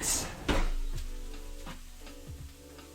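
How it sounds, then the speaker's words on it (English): Onions sizzle steadily in a hot pan, with a sharp scrape near the start and a few soft stirring knocks as they are moved around. No one speaks. "our onions are doing really well. Just keep these moving around."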